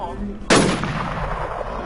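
Gunfire in the video game WarZ, one sharp loud blast that bursts in suddenly and rings into a sustained roar of reverberating shots, with faint voices just before.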